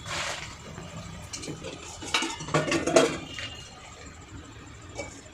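A lid being set over a cooking pot, with metallic clatters and scrapes of cookware building to a cluster of clinks midway, then fading to a low background hum.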